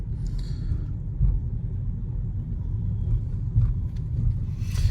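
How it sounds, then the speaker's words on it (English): Thunder from a night thunderstorm at Lake Worth rolls as a steady low rumble, moderately loud and continuous, with a few brief swells and no voices. "Ooh, lightning."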